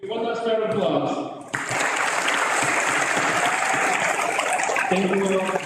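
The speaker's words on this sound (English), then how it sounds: "One last round of applause." Audience applause at an evening recognition ceremony, dense and sustained throughout with voices underneath, starting somewhat thinner and swelling into a full loud round of clapping.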